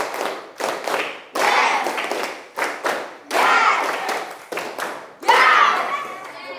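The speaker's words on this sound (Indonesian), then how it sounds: "3 kali tepuk 5." A class of students at a junior high school in Kesamben claps together in a tiered clap-five pattern, with loud, crisp bursts of group clapping arriving in several close rounds separated by short pauses.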